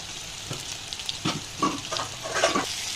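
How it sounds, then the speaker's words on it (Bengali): Pointed gourd and potato pieces fry in white oil with salt and turmeric, a steady close sizzle broken by intermittent scraping stirs of a spatula, with no speech. "তো দেখো পটলগুলো ভেজে নিচ্ছি"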